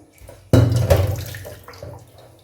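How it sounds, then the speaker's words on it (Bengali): Fresh tea leaves are rinsed under running water, a sudden splash of flowing water starting after a short quiet moment, then tapering off with a smaller second gush near the end. "দুবার ধুয়ে নিচ্ছি"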